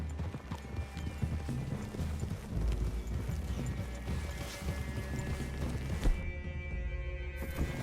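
Horses walk through a clearing in the video game Red Dead Redemption 2, hooves clip-clopping in an uneven steady rhythm over game ambience, fairly close, with a brief heavier thump near the end and no voices.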